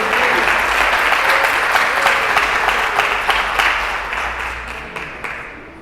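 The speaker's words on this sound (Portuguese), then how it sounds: "Dê uma salva de palmas ao Senhor" A church congregation applauding together, a loud, dense wash of hand claps from many people close by, steady at first and then gradually fading toward the end.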